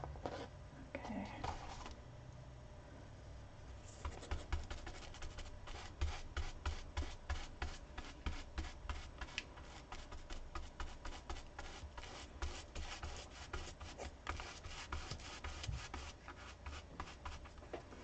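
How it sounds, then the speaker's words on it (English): A brush sweeps sealant across a cardboard relief plate in rhythmic, repeated scratchy strokes, close and quiet, steady from start to finish after a few handling sounds at the beginning. "I'm kind of brushing in the direction of the cut marks to help pull the excess sealant out of there."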